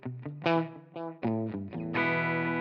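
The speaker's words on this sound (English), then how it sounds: "Playing my Gibson Les Paul Jr. here." Distorted electric guitar, a Gibson Les Paul Jr. through a POD GO amp modeler, playing a short phrase of chords and notes, loud and close, with a thick processed amp tone, delay and room reverb.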